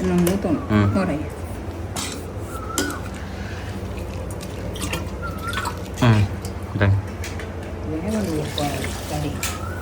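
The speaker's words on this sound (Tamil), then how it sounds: "தண்ணி வேணுங்கிற அளவுக்கு ஊற்றியாச்சு" Water is poured into a pot of duck curry, splashing and trickling in uneven bursts while people talk nearby.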